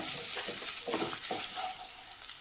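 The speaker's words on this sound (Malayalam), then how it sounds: "മഞ്ഞൾപ്പൊടി ചേർത്ത് കൊടുക്കുക. നന്നായി ഇളക്കുക." Turmeric powder being stirred into hot frying oil in a pan: a steady sizzle with a few soft scraping strokes of the spoon, close and moderately loud, no talking.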